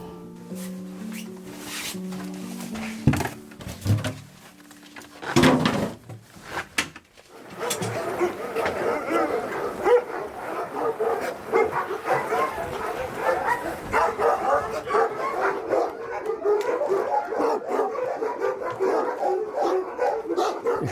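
Several dogs bark and yip in a busy, overlapping chorus, with whimpers and sharp single barks early on, then a dense, continuous racket of many dogs at close to middle distance.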